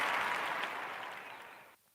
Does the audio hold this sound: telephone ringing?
no